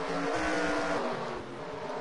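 NASCAR Sprint Cup race cars roar around Bristol's short track during the night race, a dense, loud engine drone that swells and fades slightly as the pack passes, with no talk over it.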